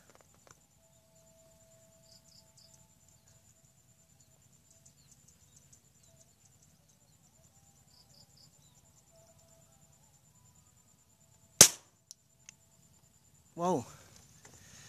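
A Sharp Tiger air rifle, pumped four times, fires a single sharp crack at a 60 m target, loud and brief against a quiet outdoor background with faint insect chirping, followed by a short murmur of voice.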